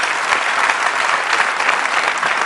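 An audience claps loudly and steadily at a Marathi film song event, a dense burst of applause filling the room with no voices above it.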